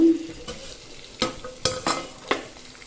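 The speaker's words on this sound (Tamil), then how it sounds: "எண்ணெய் ஊற்றிருக்கேன். இதில் வந்து தேவையான ஸ்பைசஸ்லாம் போட்டுக்கலாம்." Whole spices crackle and sizzle in hot oil while being stirred for a mutton kuzhambu, with several sharp stirring scrapes and pops over a low frying hiss.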